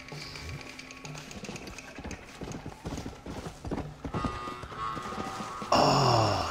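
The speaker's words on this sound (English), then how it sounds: "There's a horse." Horse hooves clip-clop in a steady rhythm in the video game Red Dead Redemption: Undead Nightmare, mixed with game music and ambient effects, ending in a louder burst of sound.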